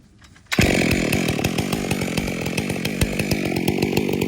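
A chainsaw snaps to life after a quiet moment and roars steadily at high revs, biting into a standing tree to begin a bore cut, with a loud continuous buzz and regular rhythmic chain pulses.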